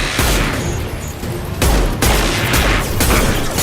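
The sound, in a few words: heavy gunfire in Mass Effect 2 video game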